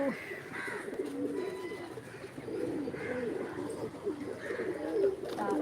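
Several fantail pigeons keep up a continuous low cooing, soft rolling calls layered over one another at close range for several seconds, with some faint background voices.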